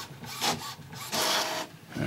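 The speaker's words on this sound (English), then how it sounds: "Oh, I've got to print something, and then print, and then expect it to happen." An Epson XP600 all-in-one printer runs through a print job, with repeated mechanical whirring and rasping passes of the print head and paper feed, loud and close, in uneven bursts with short pauses and no talking.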